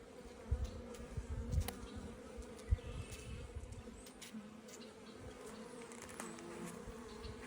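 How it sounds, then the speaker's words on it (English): Honeybees around an opened hive give off a faint, steady buzz over low background noise, with a few soft knocks and rustles from nearby handling. "But on this side there's some young bees."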